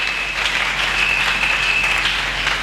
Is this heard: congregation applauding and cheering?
yes